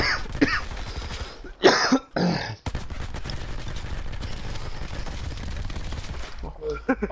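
Gunfire in the Call of Duty Black Ops 4 Prop Hunt video game on the Nuketown map, with sharp bursts of shots early on followed by a long, dense stretch of sustained firing and noise.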